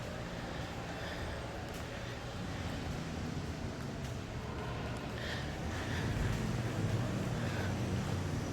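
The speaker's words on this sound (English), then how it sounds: "It's wind." Wind buffets the microphone at a Cancun beach resort, a steady low rushing roar that swells slightly louder toward the end, with faint surf-like texture beneath.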